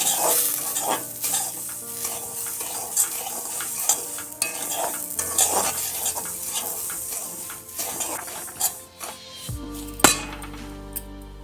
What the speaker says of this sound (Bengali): সুজিটা ভাজা হয়ে গেছে, এবার আমি নারকেল কোড়াটা দিয়ে দেবো